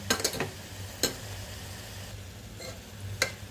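Chopped tomatoes and onions fry in oil with a soft, steady sizzle, broken by a few sharp scrapes of a spoon stirring the pan, close and moderately quiet.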